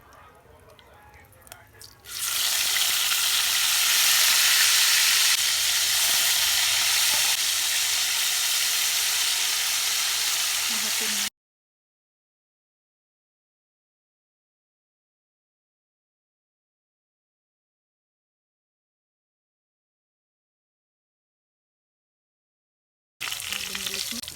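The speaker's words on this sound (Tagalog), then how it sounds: "iprito lang natin lahat ng mga natitira pa natin na pork" Pork pieces frying in a pan for a Filipino onion-and-sauce dish, giving a loud, steady sizzle for about nine seconds that cuts off into silence before a short burst of sizzling returns at the end.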